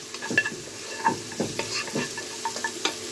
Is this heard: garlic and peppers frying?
yes